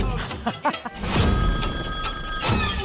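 A telephone bell rings in short bursts, fairly close, with a couple of soft thumps near the start and no talk over it.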